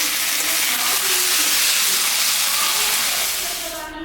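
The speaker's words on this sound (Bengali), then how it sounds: "একটু জল দিয়ে দিই।" Water poured into a sizzling spiced curry in a pan for rohu fish jhol sets off a loud, continuous hissing sizzle that holds steady and then eases slightly at the end.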